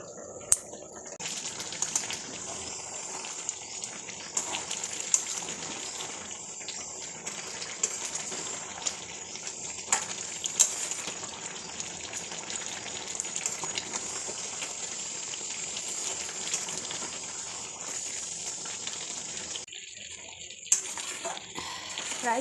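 Goat meat cooks under a lid in a pot, giving a long, steady, dense hiss of sizzling and bubbling at moderate loudness with small crackles and pops scattered throughout, briefly dipping near the end.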